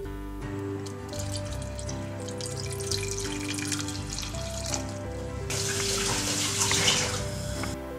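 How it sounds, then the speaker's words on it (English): Water pours from a tap into a pan of apple chunks, a steady splashing stream that brightens and grows louder toward the end, close up with no talking. "we're going to cover it with water"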